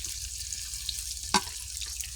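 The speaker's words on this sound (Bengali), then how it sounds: "দিয়ে দিলাম মেখে রাখা গোশতগুলো, দিয়ে নাড়াচাড়া দিয়ে নেব" Marinated meat and chopped onions frying in oil as they are stirred for a biryani give a low, steady sizzle with one short scraping clatter midway, no voices.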